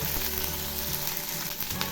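Cumin paste and ginger paste frying in hot oil as tempering for moong dal, giving a steady, close sizzle and crackle throughout with no talking.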